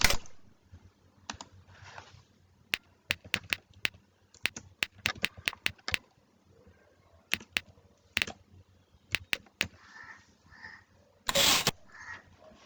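Typing on a computer keyboard in a digital painting program: scattered bursts of crisp key clicks with pauses between, close and clear, plus one louder clack near the end and no talking.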